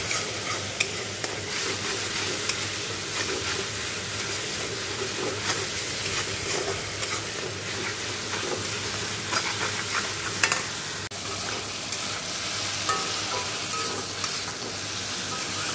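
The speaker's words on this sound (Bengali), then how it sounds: "দেখো ফুলকপি আলুটা দিয়ে ভালো করে কষিয়ে নিচ্ছি" Cauliflower and potato stir-fry in a pan, with continuous sizzling and repeated spatula scrapes and clacks over a steady frying hiss.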